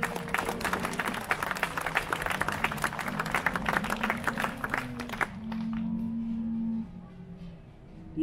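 A crowd at a Swiss cattle show applauds a prize cow, dense clapping for about five seconds before fading into quieter murmur and a low hum.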